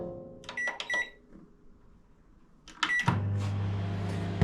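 An 800-watt microwave oven in a garage runs with a steady low hum after door clicks and a few sharp electronic beeps, moderately close.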